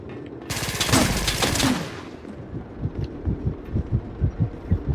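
Gunfire in the shooter video game Dust 514: a loud, dense burst of automatic fire for about a second and a half, then a run of evenly spaced, thudding shots that keep pulsing to the end, with no talk.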